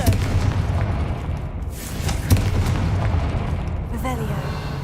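A Confringo blasting spell bursts in the Hogwarts Legacy video game, producing sharp booming explosions over a busy bed of game sound, with a voice present.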